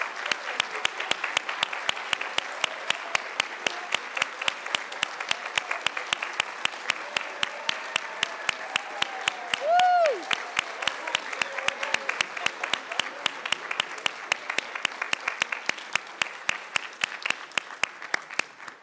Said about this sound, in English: So will you please join me in a final round of applause